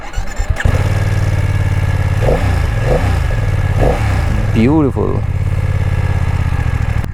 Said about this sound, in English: So it's a 2-cylinder motorcycle, so expect that kind of an aggressive tone from the engine.